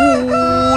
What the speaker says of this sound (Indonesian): ternyata ada ayam berkokok